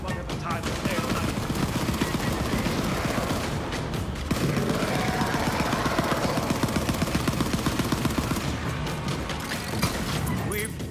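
Dense, continuous gunfire from a firefight in the video game Borderlands 3, sustained rapid shots with crashes over a steady bed of game noise, while voices speak over it throughout.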